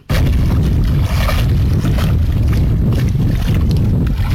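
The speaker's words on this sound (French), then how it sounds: "De petites vagues avec du vent au Lac Rose" Small waves lapping with steady wind at Lac Rose, a lake in Senegal, forming a loud, continuous wash of water and wind rumble throughout with no voices.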